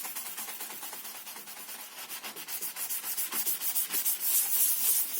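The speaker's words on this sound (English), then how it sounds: "if you give it a good sanding, it tends to work out right anyway" Sandpaper rubs steadily over a guitar headstock in preparation for spray painting, giving a close, rhythmic scratchy sanding sound in quick strokes that grow louder and faster toward the end.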